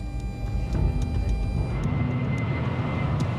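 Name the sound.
airplane climbing after takeoff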